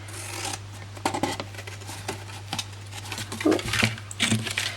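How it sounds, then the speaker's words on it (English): Scissors notch and cut cardstock tabs for a hinged gift box lid, a series of close, crisp snips and rustles under a low steady hum. "on the other 3, what we are going to do is we're going to notch them out and cut them in half approximately"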